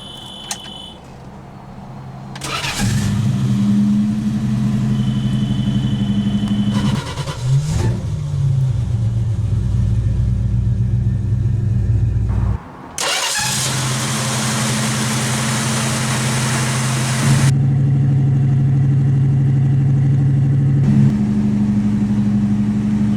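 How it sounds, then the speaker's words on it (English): A 1973 Plymouth Road Runner with a 318 V8 and automatic transmission cranks and fires up, then settles into a steady idle with a couple of revs between, loud and close with no talk. "let's go ahead and start the engine"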